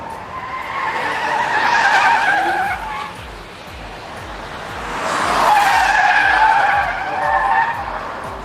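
A Rolls-Royce Cullinan driven hard on a race track, its tires squealing in two long, loud skids that rise and fade as the heavy SUV slides through corners.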